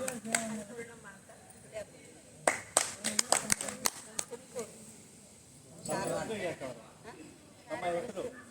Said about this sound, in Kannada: ಜೋರಾಗಿ ಚಪ್ಪಾಳೆ ಕೊಡ್ತೀನಿ